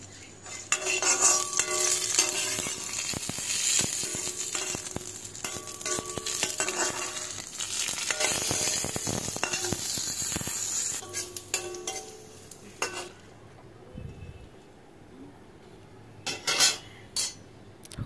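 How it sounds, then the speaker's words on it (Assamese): Dried chillies fry in a pan with leafy greens, a loud sizzle punctuated by the clatter and scrape of a spatula stirring, fading toward scattered clinks near the end. "শাকৰ লগত মই শুকান জলকীয়া ভাজি লৈছোঁ কেইটামান।"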